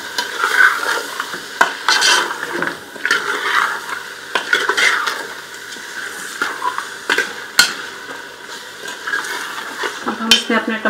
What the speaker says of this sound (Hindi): इसके अंदर सौते फ्राई करते हैं ताकि इसकी खुशबू आ जाए अच्छी तरह